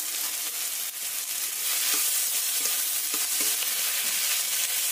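Vegetables with tomato and garlic fry in a pan for a paneer mash, a steady close sizzle with a few scrapes of stirring and no voices.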